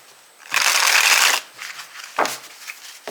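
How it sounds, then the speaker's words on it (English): A deck of tarot cards being cut and shuffled by hand: a dense, papery riffle for about a second, then shorter flicks of cards close by, with no talking. "cutting the deck to see your person as well as their clarifier"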